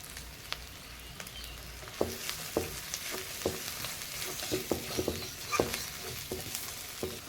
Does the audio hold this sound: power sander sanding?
no